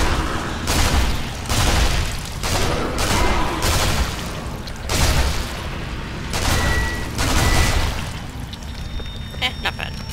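Several heavy booms from a grenade blast and surrounding combat in the video game Sniper Elite Nazi Zombie Army, repeated thumping bursts filling the clip with dense, loud low-end impacts and a faint high tone near the end.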